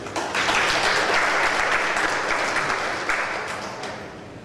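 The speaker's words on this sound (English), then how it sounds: "So everyone else give a big hand clap for Mary Kay." Convention audience at a district association gathering clapping for a long-standing member, loud, dense and sustained applause from a large crowd that holds steady throughout.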